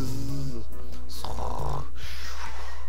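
A voice imitates a snore, a loud, close, drawn-out rasping snort sound, playing during an Undertale game with constant background noise.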